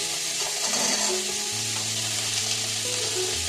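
Vegetables and paneer frying in a covered pan, a steady close sizzle with soft crackle running throughout, alone with no voices.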